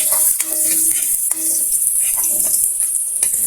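Garlic sizzles in a hot pan as it is sautéed for chicken tinola, a steady bright hiss with light stirring and scraping clicks throughout and no talking.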